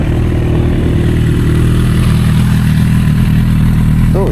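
A Honda CB1000R motorcycle with a hot-start fault idles close by, a loud, steady engine drone with mechanical clatter and no speech.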